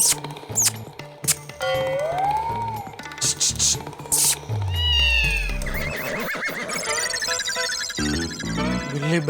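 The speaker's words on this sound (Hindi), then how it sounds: "बिल्ली की आवाज बेडरूम में से भी आ रही है, यहाँ से भी आ रही है।" Several high, gliding meows mixed with other animal calls and squeaks, fairly loud and close, coming one after another without pause.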